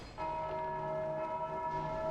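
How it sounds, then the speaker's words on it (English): A church bell rings in the Dark Souls 2 video game, a sustained resonant metallic tone with bright overtones holding steady and loud throughout, no speech. "they ring the bell for me"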